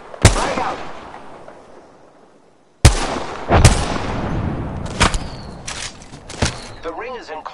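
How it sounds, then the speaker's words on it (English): Frag grenade blasts and gunfire in the Apex Legends video game, with several sharp booming impacts and cracks spread out, some trailing echoes, and a voice briefly heard near the end. "Frag out!"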